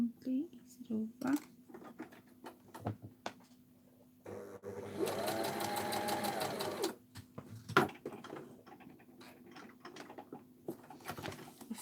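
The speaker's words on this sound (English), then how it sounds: "Lift my foot up and I'm gonna sew at an angle and then sew straight." Sewing machine stitching a vintage purse at an angle and then straight, a steady mechanical whirring run of about three seconds in the middle, with quiet talk and handling noises before and after.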